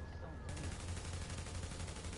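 Rapid bursts of automatic gunfire from a firefight in the video game The Division, dense and continuous with booming low thuds, filling the whole stretch without a break.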